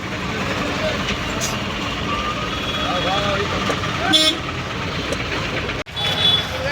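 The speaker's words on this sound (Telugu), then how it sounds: "ట్రాఫిక్ చూడండి ఎలా ఉందో" Busy city road traffic near a market, with engines droning steadily and a few short horn toots and beeps cutting through at mid distance.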